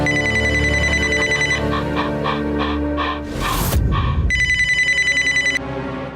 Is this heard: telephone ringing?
yes